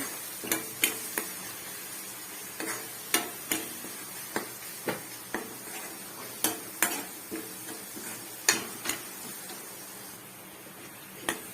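Lemon pickle mixture frying in a pan, with a steady low sizzle and a regular series of sharp ticks and clinks from stirring throughout, no voices.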